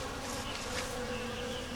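Around a small nuc hive with a laying queen, honey bees hum in a continuous close buzz, steady and unbroken throughout.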